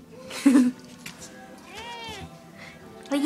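A kitten meows a few times, one short plaintive cry followed by a longer drawn-out whine, close by, with a quiet voice talking around it.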